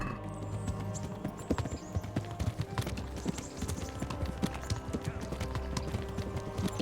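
Horse hooves clip-clop at a steady trotting rhythm in the medieval game Kingdom Come: Deliverance, close and loud over a constant background of game ambience and music.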